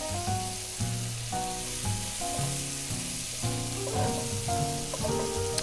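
Scallops, blackened restaurant-style, sizzle and fry steadily in a hot pan as they are flipped over, with a constant crackle and a few louder spits, under a recurring tonal background sound and no talking.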